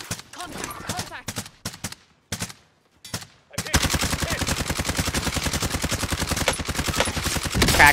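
PPSh submachine gun in a video game: short bursts broken by pauses, then a long, loud, sustained stream of rapid automatic fire, with players talking over the early part.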